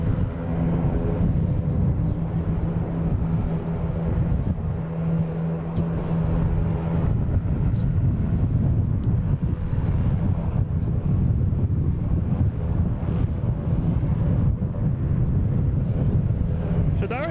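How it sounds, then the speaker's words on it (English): Alaska Airlines airliner taking off on runway 15 at Boston Logan, a steady broad engine roar with wind rumble filling the whole stretch, loud and continuous throughout. "here we have Alaskan Airlines shooting out on 15, heading to Portland"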